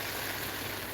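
Running water makes a steady, close, broadband rushing hiss that fills the whole second without a break, no talking.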